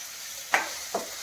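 Salted onions fry softly in a pan for chicken curry, a low steady sizzle broken by two brief scraping knocks.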